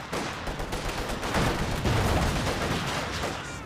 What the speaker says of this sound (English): Katusha in the build. One of the best artillery pieces in the game.